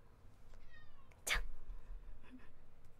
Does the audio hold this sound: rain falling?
no